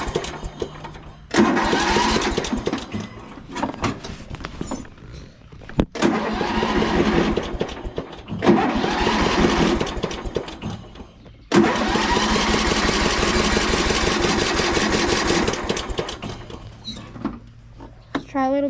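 An old John Deere Sabre riding mower engine cranks over with a little throttle in four long starter bursts separated by short pauses, loud and close, each burst a steady chugging whir that never quite catches.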